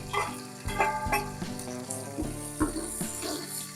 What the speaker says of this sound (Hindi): 200 ml ऑयल को गर्म करके इसमें प्याज शामिल करेंगे